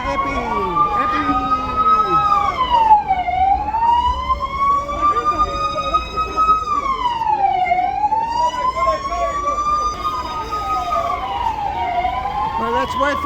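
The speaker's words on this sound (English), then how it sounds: "let's wait for the siren to be done" A wailing siren sweeps up and down in long slow cycles during Purim celebrations in Jerusalem, loud and steady, with faint voices and street noise underneath.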